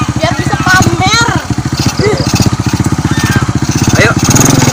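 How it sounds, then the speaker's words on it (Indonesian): An old, run-down motorcycle engine runs loud and close with a rough, rapid pulsing chug, while voices talk and exclaim over it throughout. "Motor nyusahin udah jelek."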